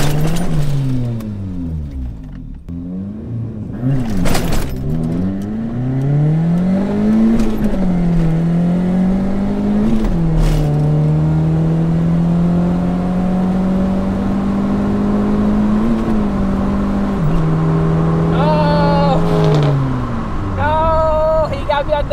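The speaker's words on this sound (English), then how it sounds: "My clutch starts slipping." A turbocharged 1.6-litre Nissan B13 Sentra engine revs hard and holds high, its pitch climbing and sagging as a slipping clutch lets the revs flare, loud and close, with a brief voice near the end.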